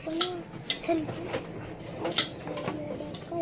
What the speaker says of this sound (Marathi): मस्त असा बारीक बारीक कांदा कापायचा